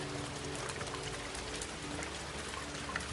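Steady rain patters down in a continuous, even wash of drops, fairly soft and unbroken, with no voices.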